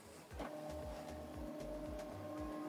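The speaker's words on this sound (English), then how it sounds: "the printer is scanning the job via a USB cable" An Epson WF-2950 printer scans a document over a USB connection, its carriage motor making a steady mechanical hum broken by a series of short, rhythmic stepping pulses close by, with no talking.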